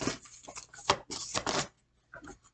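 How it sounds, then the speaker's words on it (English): A large tarot deck, The Awakened Soul, being shuffled by hand: several bursts of riffling and sliding cards close up, with a short pause before a final softer flurry. "this deck is so hard to shuffle because it's so big"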